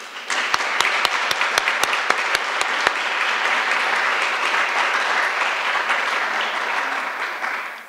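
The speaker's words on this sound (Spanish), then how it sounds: "Le brindamos un fuerte aplauso." Audience applause at a formal human rights lecture in a legislative hall, a steady wash of many clapping hands with a few sharp distinct claps near the start, sustained at even loudness.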